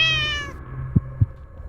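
A cat in The Cat Lady video game lets out a clear, harmonic meow that fades after about half a second, followed by two soft low thumps over a quiet hum.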